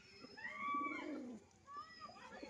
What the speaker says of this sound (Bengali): পায়রা পুরো সুস্থ পায়রা, আপনারা দেখলেই বুঝতে পারছেন।